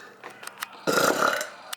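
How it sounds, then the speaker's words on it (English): During a burping contest between a niece and an uncle, a loud, close burp rumbles for about a second after a few faint ticking clicks, with a short click at the end. "Do you feel a big burp coming"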